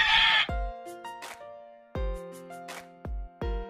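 Goats kept on a rural Philippine farm bleat in several loud, wavering calls, one after another, close by, with no talking.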